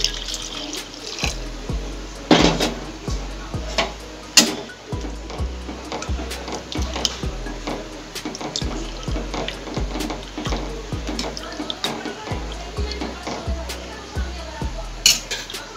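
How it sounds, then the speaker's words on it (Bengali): Cold water runs and splashes over freshly boiled chow mein noodles in a pot or bowl in a home kitchen, a steady pour with clinks of utensils and dishes, with a voice speaking over it. "এবার এর মধ্যে ঠান্ডা জল দিয়ে দেব।"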